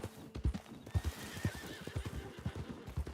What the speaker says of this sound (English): We got some horses around here.